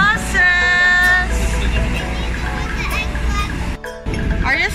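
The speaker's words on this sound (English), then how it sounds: "Double decker buses." Double-decker buses pass along a busy Hong Kong street, their engines rumbling loudly up close with a high whine over steady traffic noise, as voices, including a child's, sound nearby.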